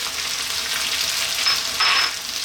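Garlic ginger paste sizzles in a hot pan during cooking of a vegan biryani, giving a steady, close frying hiss that swells slightly near the end.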